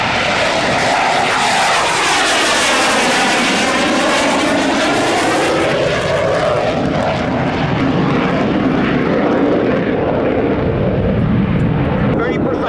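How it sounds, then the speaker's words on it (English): A military aircraft at an air show takes off and rolls 360 degrees with its landing gear extended. A loud, continuous engine roar fills the whole stretch and sweeps steadily in pitch as it passes, with a commentator talking over it. "He will then roll his aircraft 360 degrees with the landing gear extended"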